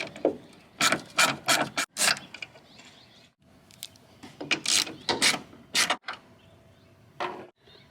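Ratchet clicking as 8mm screws come out of a Ford F-250 taillight with BLIS, in rapid bursts of sharp ratcheting with short pauses between, close and fairly loud.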